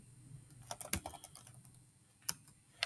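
Keys tapped on a computer keyboard while entering text in Microsoft Word 2000, a sparse, irregular series of soft, close keystrokes with a few sharper presses, quiet and without speech.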